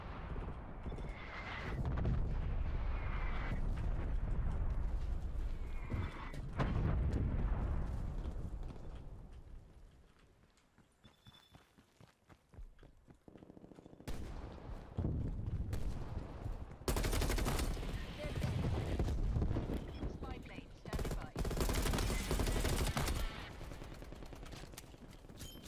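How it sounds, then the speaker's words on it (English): Incoming artillery and gunfire in a video game, with heavy booms and crackling rapid shots, a lull, then a fresh round of loud blasts and rattling fire near the end. "Artillery inbound."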